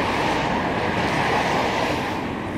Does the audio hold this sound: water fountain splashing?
yes